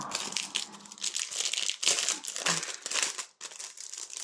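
A diamond painting kit package is torn and unwrapped close by, plastic wrapping crinkling and crackling in quick, continuous bursts with brief pauses.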